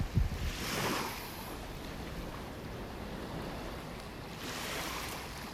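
Small ocean waves wash onto the beach at Wiggins Pass in Naples, Florida, a soft continuous surf hiss with gentle swells rising and fading, mixed with light wind noise.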